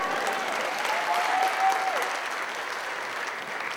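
An audience at a children's book author event applauds in a sustained, fairly even patter of many hands, with faint voices mixed into the clapping.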